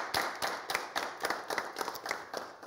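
A small group of women semifinalists on a televised French leadership programme claim their own applause, bursts of clapping with a clear rhythmic beat and distinct individual hand claps, close and moderately loud.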